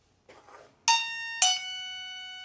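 A Mosaic MH100 4G elderly help alarm head unit chimes twice, two bright ringing tones struck about half a second apart. Each rings loud and close, then sustains and slowly fades with no one talking.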